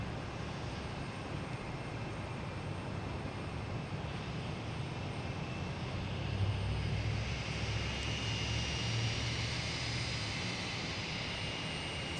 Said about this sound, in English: American Airlines coming in from Charlotte,